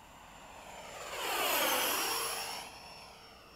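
A Freewing 90mm F-104 RC jet with custom LED afterburner makes a fast pass after sunset, its ducted-fan whine swelling from distant to loud and fading away again.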